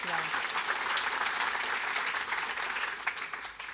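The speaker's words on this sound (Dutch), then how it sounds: "Geef een groot applaus" Studio audience applauding a guest at a Studio Erasmus talk, a dense, steady wash of clapping that holds loud throughout and tapers slightly at the end.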